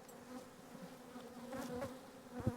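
Honey bees (Apis mellifera) buzz inside an open hive, a close, continuous drone of many wings with individual bees swelling louder as they pass near, and no talking.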